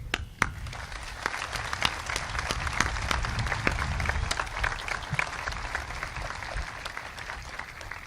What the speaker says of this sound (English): We now ask our fellow graduates and all of our guests to join us in applauding these professionals, our teachers and staff,